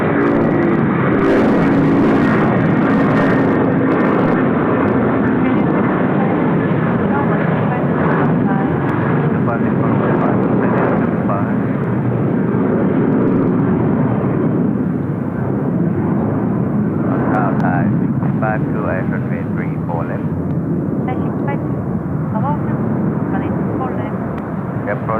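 A jet airliner in a new livery roars loudly at Seoul Incheon Airport, a broad sustained rumble that swells and fades as it passes, with faint voices underneath.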